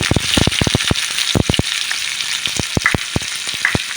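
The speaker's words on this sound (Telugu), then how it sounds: "ఇప్పుడు నేను 3 చిన్న చిన్న సైజు ఆనియన్స్ వేస్తున్నానండి, సన్నగా తరిమి పెట్టుకున్నాను" Three small finely chopped onions frying in a pan for a moong dal and cauliflower curry, a steady close sizzle broken by repeated sharp scraping clicks of stirring, with no voices.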